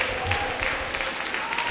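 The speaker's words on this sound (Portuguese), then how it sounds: "Dá uma salva de palmas para Ele" Church congregation clapping at a Pentecostal-style service, a dense steady patter of many hands filling the room with no pause.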